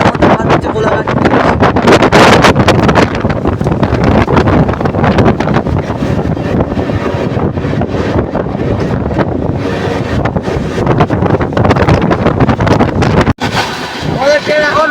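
The Puri Superfast Express crossing the Kolaghat bridge in rain makes a loud, continuous rushing rumble mixed with heavy wind buffeting, close and unbroken, with a brief cut near the end.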